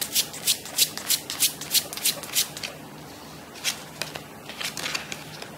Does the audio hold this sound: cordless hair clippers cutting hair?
no